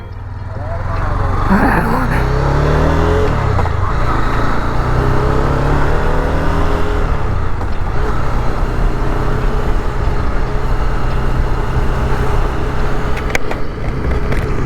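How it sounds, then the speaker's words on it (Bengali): A Honda CB300F motorcycle engine starts and then runs steadily as the bike rides out onto a road, a continuous loud drone with shifting pitch and wind noise, no talking heard. "তো চলো হর হর মহাদেব বলে আমরা স্টার্ট করি বাইকটা।"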